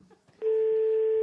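A steady electronic telephone tone on a radio show's phone line starts abruptly after a moment of faint background noise and holds loud and unbroken to the end.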